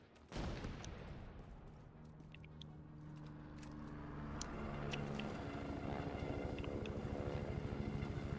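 Helicopter in the video game The Division 2, a rotor rumble that swells in after a sudden onset and grows steadily louder, with scattered sharp clicks and gunfire-like bursts.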